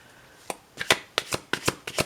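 Tarot cards are handled and laid down on a table one at a time in a series of short crisp slaps and shuffling flicks, about eight quick close snaps with quiet gaps between them.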